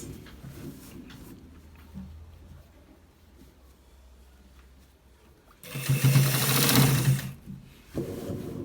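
A sewing machine stitching the end part of a collar shirt starts up after quiet handling sounds, running loud and steady for under two seconds before another short burst begins.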